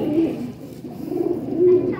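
Pigeons coo in low, throaty bursts at close range, several soft rolling calls across two seconds, with a voice speaking over them.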